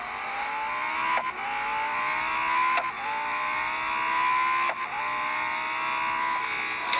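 A Lamborghini Huracán STO at Hockenheim in a racing video game, its engine holding a loud, steady high rev with brief dips at gear shifts, no talk.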